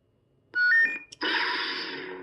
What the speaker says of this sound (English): you'll hear the beeps go up and the sound will kick on